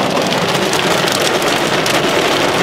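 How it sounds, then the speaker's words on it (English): Small pea-sized hail pelting down during an April thunderstorm in Erie, Pennsylvania, a dense, steady hiss of countless tiny impacts filling the scene without a break and with no voices. "Yeah, that's hail. That's only pea-sized though."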